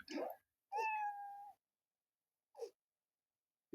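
A cat meows in the mobile game Fallout Shelter, one clear drawn-out meow after a short sound, with brief faint sounds later against otherwise quiet background.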